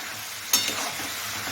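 Palak greens cook in a pan with a steady sizzling hiss, broken by a single brief clink of a utensil against the pan.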